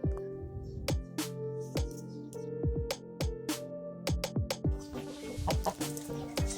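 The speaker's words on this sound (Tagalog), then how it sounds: "BPR na rooster at hen na black astrolorp." Chickens, including a Barred Plymouth Rock rooster and a black Australorp hen, cluck close by in quick, uneven bursts of sharp, loud calls with short gaps between them.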